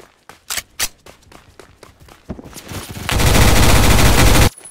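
Gunfire in the Roblox shooter Phantom Forces: a string of separate loud shots, then a rising burst that turns into a sustained roaring automatic volley before cutting off, with no voices.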